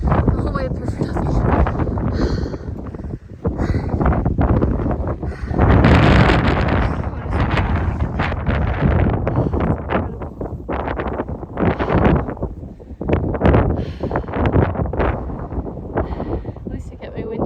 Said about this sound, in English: Thought I'd eat lunch, but it's too cold and windy.